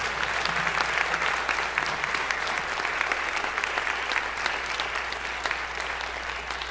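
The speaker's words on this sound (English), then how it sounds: "I just want one more round of applause for all our students" A school concert audience applauds its students with steady, dense clapping that holds evenly throughout, a continuous wash of many hands at moderate loudness.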